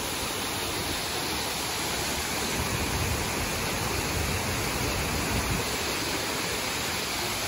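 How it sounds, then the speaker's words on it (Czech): Steady, dense roar of a waterfall near the Slovenian border, a continuous broadband rush of falling water with no pauses, close and loud throughout, no voices. "Nádherný vodopády"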